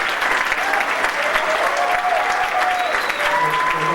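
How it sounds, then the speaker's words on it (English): A convention crowd at a furry fan event claps loudly and steadily, with scattered whistles and faint cheering voices mixed into the sustained applause. "give a big round of applause to them for making this happen"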